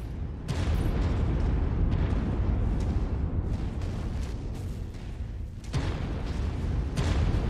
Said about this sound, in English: These guns really shake the screen, don't they?